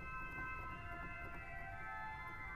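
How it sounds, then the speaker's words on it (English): A 2-foot gemshorn stop on a concert hall pipe organ gives a short, high, thin sustained chord, steady and close, with soft key clatter underneath. "And there's even a 2 foot gemshorn."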